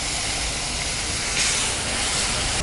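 Water added to besan roasting in a pan sizzles into a loud, steady hiss that swells briefly midway, close up with no talking.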